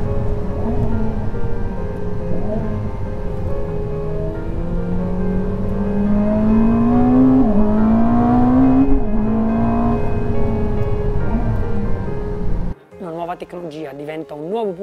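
Ferrari SF90 hybrid supercar driving hard out of corners, its engine droning loud and steady with rising revs and a climbing whine, before cutting off abruptly as a voice takes over near the end.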